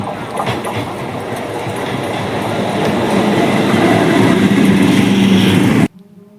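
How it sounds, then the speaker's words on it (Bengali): A train rumbles in along the rails, its roar and clatter swelling louder and nearer before cutting off abruptly. "তো আমাদের ট্রেন চলে এসেছে"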